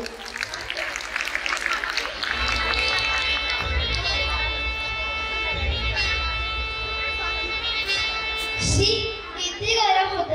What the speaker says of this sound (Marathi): या धमाकेदार डान्ससाठी टाळ्या या वाजल्याच पाहिजे.